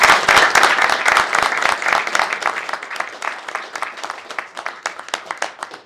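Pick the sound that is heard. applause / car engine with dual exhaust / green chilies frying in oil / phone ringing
applause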